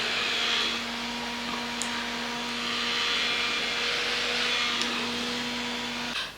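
A hair dryer blows steadily on a synthetic lace wig, a constant close whooshing roar with a low hum running through it, never letting up.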